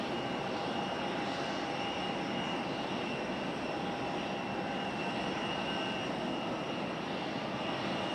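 A fixed-wing airliner arriving at Raleigh Durham airport makes a steady broadband jet roar with a faint whine, constant and moderately distant throughout.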